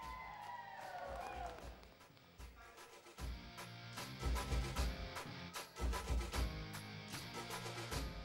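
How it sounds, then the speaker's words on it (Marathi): A crowd cheers and claps loudly at a women's kabaddi match as the Kolhapur Hurricanes are welcomed, with dense, continuous noise and repeated sharp bursts, and a voice speaks over the top near the start. "जोरदार टाळ्या कोल्हापूर हरिकेन्ससाठी"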